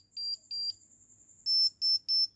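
A mobile phone speaker gives out a loud, shrill electronic beeping when the two multimeter probes touch its terminals, in short repeated pulses: three quicker bursts, a pause, then three longer, louder ones, close up and with no talking.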